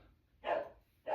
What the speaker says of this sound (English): My dog is barking at squirrels.